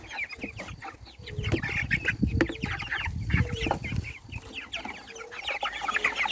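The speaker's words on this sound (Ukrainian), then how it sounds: "Отакі в мене славні курчата, дівчата." Chicks and hens clucking and peeping in a busy, continuous chorus close by, with scattered sharp chirps and some shuffling underneath.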